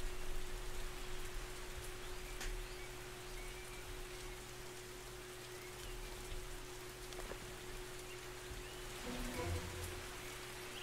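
Steady rain falls throughout in the Norland video game, a dense, even hiss of drops at constant loudness with no voices.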